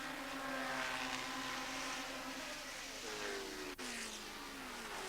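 Ford C100 sports-prototype race cars lapping Brands Hatch circuit during a 1983 Thundersports race, a steady loud engine drone with harmonic whine sweeping in pitch, one brief dropout near the end.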